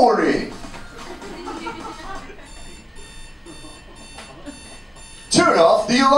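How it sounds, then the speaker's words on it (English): An alarm clock in a video game rings with a steady repeating electronic beep pattern over several seconds. Voices and chuckling come before it and return loudly as it ends. "Turn off the alarm clock."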